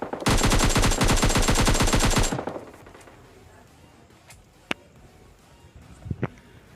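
Gunfire in the video game PUBG Lite: a loud, rapid automatic burst lasting about two seconds, followed by quiet ambience with two or three isolated sharp shots or impacts later on.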